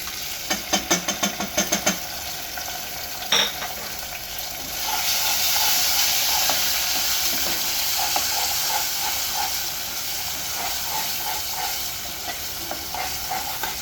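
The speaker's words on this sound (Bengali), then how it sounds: "আদা আর রসুনটাকে আমি একটু কষাবো, একটু হালকা লাল লাল ভাব করবো।" Ginger and garlic sizzle steadily in a hot pan after a few sharp metallic taps and a stir, the frying hiss continuing close and loud.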